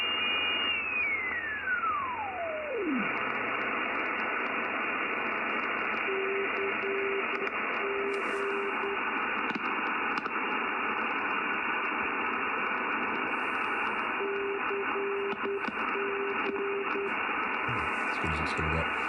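Eddystone 1650 radio receiver hissing with steady static, a falling swept tone early on, and intermittent pulsed tones and faint clicks as it switches its front end filters.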